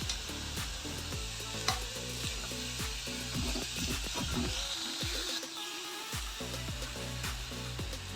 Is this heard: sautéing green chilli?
yes